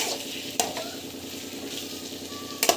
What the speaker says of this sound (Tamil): ஸோ இதை வந்து கொஞ்ச நேரம் வந்து வதங்கட்டும்.